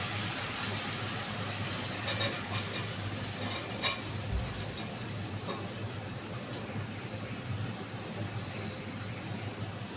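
Sliced bottle gourd sizzles and is stirred into a frying spice paste for a prawn and gourd curry, a steady broadband frying hiss running throughout with a few brief scraping stirs.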